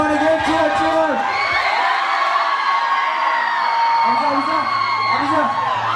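A dense crowd at a dance battle cheers and whoops continuously, with excited shouts and yells rising over a steady roar and voices calling out through it.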